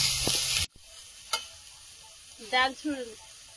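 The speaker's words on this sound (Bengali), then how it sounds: "ডাল শুক্তানির উচ্ছে একটু কড়া করে ভাজতে হয়" Bitter gourd fries crisply in a pan for a loud, close burst of sizzling that cuts off abruptly, leaving near quiet with a few faint clinks and brief tonal sounds.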